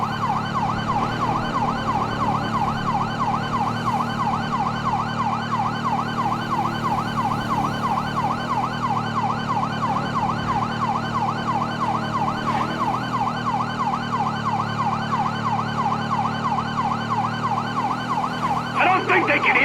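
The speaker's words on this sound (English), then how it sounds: "I don't think they can hear the sirens" A loud wailing police siren in GTA V cycles rapidly and steadily up and down, close by, over a low engine hum, continuing throughout.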